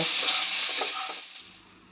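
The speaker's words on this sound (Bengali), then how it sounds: "সয়াবিনটাও এর সঙ্গে ভেজে নিচ্ছি" Soybean chunks frying in a pan for a jackfruit biryani, giving a loud, close sizzle with a bright hiss that fades over about two seconds.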